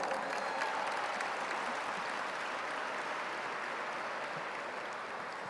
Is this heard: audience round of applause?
yes